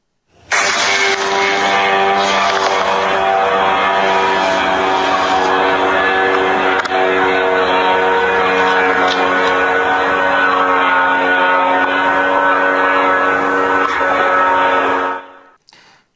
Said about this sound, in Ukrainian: Чути, як летить, чути, як намагаються збивати.